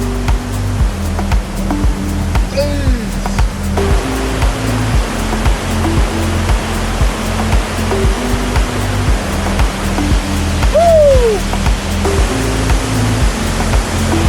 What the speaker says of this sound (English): this waterfall was definitely one of the biggest waterfalls I'd ever seen in my life